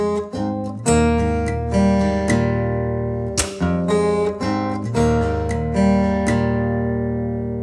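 Percussive acoustic guitar plays two bars of a verse, with plucked third-string notes, pull-offs and hammer-ons. Bright ringing notes sound over sharp body hits in a steady rhythm, close and solo.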